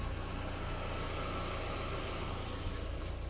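A 27-year-old Audi engine idling steadily up close, a low rumbling purr with constant vibration and no other sounds.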